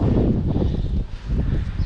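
Outdoor wind buffeting a microphone, a loud, rough, low rumble that swells and dips unevenly, easing briefly midway before gusting back up.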